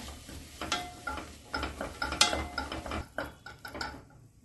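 A spoon stirs chopped, peeled and seeded tomatoes into sautéed vegetables in a pan for minestrone soup. Irregular close scrapes and soft clinks come in bursts against a quiet background, with no talking.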